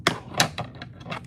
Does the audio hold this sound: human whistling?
no